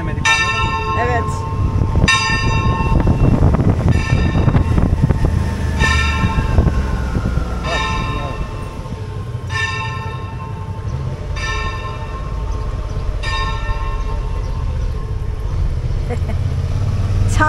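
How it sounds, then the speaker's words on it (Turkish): Church bells ring out in Methoni, Greece, a steady series of resonant strikes about every two seconds over a low rumble of engine or traffic noise, with people talking nearby. "Çanlar sizin için çalıyor."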